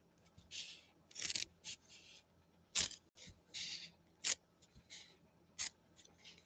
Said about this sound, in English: Folks, I wish you could feel these scissors trying to go through this stuff right now.